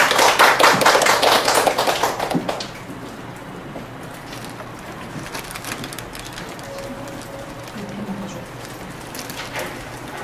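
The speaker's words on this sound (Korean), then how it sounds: "다 같이 장윤수 교수님을 박수로 환영하겠습니다." An audience at a lecture on English reading instruction claps to welcome the visiting professor, a loud burst of applause lasting about two and a half seconds, then a few scattered taps in a quiet room.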